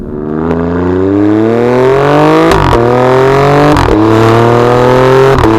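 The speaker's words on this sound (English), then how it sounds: "have a listen to this engine" The 2.9-litre bi-turbo V6 of an Alfa Romeo Stelvio Quadrifoglio revs loud and close, its pitch climbing in long sweeps broken by sharp cracks at gear changes, with no voices over it.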